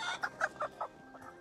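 Show chickens cluck nearby in a short burst of about five quick, evenly spaced clucks, then a softer call at the end, with no talking.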